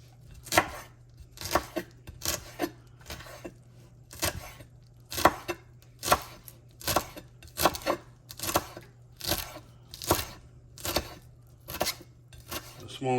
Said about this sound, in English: Then you're gonna come with your knife and finely chop it.